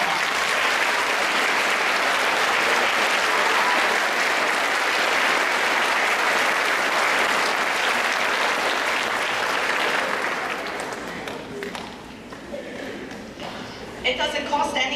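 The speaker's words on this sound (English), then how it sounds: "Mrs. Barkdahl, would you stand so we can give you a round of applause" Strong audience applause for an honoree standing in a school or community gathering, a thick continuous burst of clapping for about ten seconds that then thins out and fades as a voice resumes near the end.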